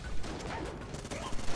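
Rapid gunfire from the video game Enter the Gungeon comes in quick, overlapping bursts of shots layered over a busy background, loud and close.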